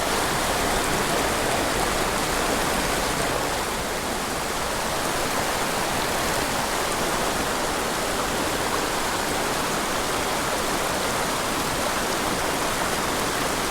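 Waterfalls in a wild gorge pour with a steady, dense roar of rushing water, loud and continuous with no voices.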